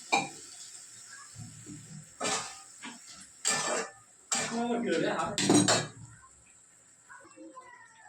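A lid set onto a pan of fish curry with water added, giving a few separate metallic clanks and scrapes of cookware at close range, spaced over several quiet seconds.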